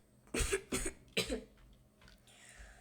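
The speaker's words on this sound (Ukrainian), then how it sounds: "прокашлявся" A person clears their throat in three quick, harsh bursts, close to the mic, followed by quiet room noise.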